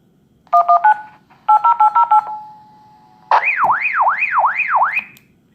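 A Baofeng UV-5R two-way radio gives a short run of electronic beeps in two bursts, then a loud warbling alert tone sweeping up and down repeatedly, close and clear.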